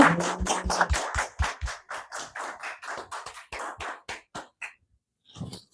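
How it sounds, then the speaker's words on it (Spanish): A studio audience claps to welcome a guest, a fairly quiet burst of applause that thins out into a few scattered claps before fading to near silence. "Así que un aplauso."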